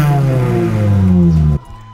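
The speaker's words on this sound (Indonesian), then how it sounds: "Yang menarik juga di sini adalah mobil ini punya suara yang gahar." A 2006 Honda Jazz GD3 IDSI with a manual gearbox and modified setup revs loudly, its engine note climbing gradually and holding close before cutting off abruptly near the end.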